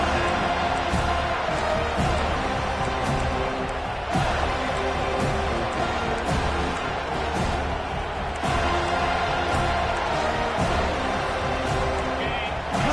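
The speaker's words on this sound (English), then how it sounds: "Listen to the crowd energy here in the early going" Crowd roar in a college football stadium early in an Ole Miss playoff game, a tough environment for visitors; a loud, sustained wash of cheering and noise that swells at moments, with a commentator talking over it.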